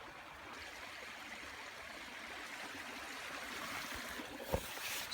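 A river rushes steadily past a wintry camping spot, a constant broad wash of flowing water close by, with a brief knock near the end.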